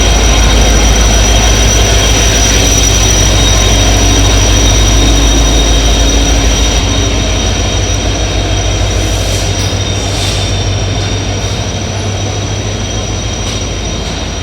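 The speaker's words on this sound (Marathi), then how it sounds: "प्लॅटफॉर्म नंबर 2 वरून सोमनाथ एक्सप्रेस डिपार्ट झालेली आहे." Somnath Express departing platform 2 at a station, a loud continuous low rumble and hum of the train with a steady high tone that slowly eases, no clear speech.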